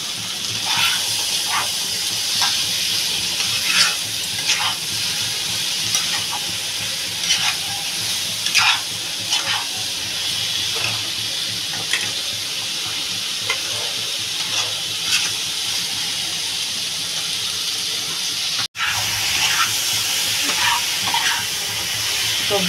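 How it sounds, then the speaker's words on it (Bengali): Vegetables with onion, garlic, green chilli, cumin powder and Kashmiri chilli being stir-fried in a pan for a potato-cauliflower curry: a constant loud sizzle with repeated spoon scrapes and clacks, close, with no talk. "সবজিটা ভালো করে কষাবো একটু"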